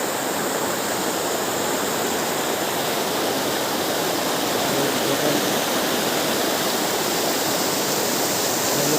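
Bandakund waterfall, a loud, steady, broadband roar of falling water running unbroken throughout with no voices.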